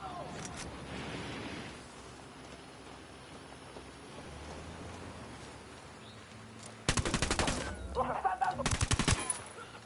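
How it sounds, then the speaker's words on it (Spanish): Gunfire in the Ghost Recon video game, with loud bursts of rapid automatic fire near the end following quieter background noise and distant shots. "Disparo a estos cabronazos."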